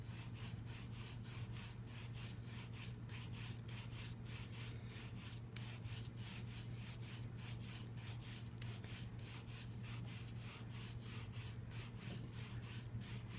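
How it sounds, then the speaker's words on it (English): A rubber brayer loaded with ink rolls back and forth across paper in a steady rhythmic scraping, close and quiet, with no talk. "ink up the brayer. Okay, then I want to move this down just a smidge and give it a roll"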